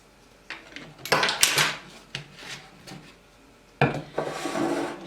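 Brown rice sourdough pancake batter being mixed in a bowl, with bursts of scraping and knocking from the utensil separated by short pauses.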